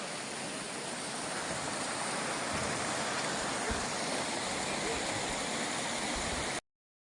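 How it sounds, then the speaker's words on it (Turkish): A steady, dense rush of flowing stream water in a canyon, constant and close, with no voices, ending abruptly. "Dereler akıyor."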